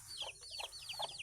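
A native hen with her chicks on a farm: high, quick peeping from the chicks repeats over soft low clucks from the hen, close and steady, with no talking.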